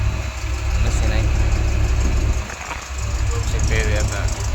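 A JCB machine's engine idles at a factory work site with a steady, low, throbbing rumble that dips briefly partway through, while voices talk in the background.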